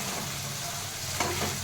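Okra and potatoes sizzle softly in a pan, a faint steady frying hiss with a brief scrape near the end.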